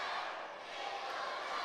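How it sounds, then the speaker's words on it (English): Crowd at a wrestling reunion show cheering and yelling as a wrestler threatens an official, a steady, fairly distant roar of voices without a break. "And everybody here's cheering now."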